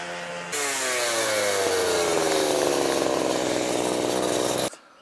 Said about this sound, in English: Hark! It's the sound of a power tool.